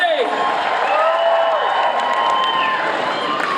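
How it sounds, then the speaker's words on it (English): An audience claps and cheers, with rising whoops and shouts carried over steady applause from a lively crowd. "Big round of applause, everybody!"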